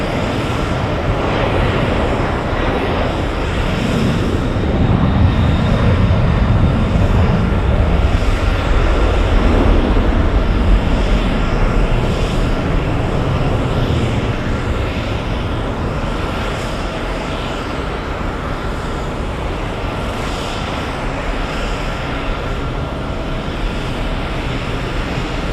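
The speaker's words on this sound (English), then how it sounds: "racing down the runway, flying to Los Angeles" A Delta 767 Heavy airliner roars down the runway at JFK on its takeoff roll toward Los Angeles, a loud, sustained engine rumble with broad wind-like rush that swells and then holds steady.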